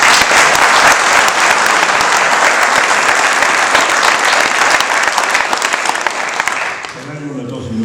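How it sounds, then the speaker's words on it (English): An audience at a 1916 commemorative medal ceremony in Louth gives sustained, dense applause for several seconds, then it fades as a voice begins. "our county librarian Bernard Fennell, for whom I think a round of applause would be appropriate."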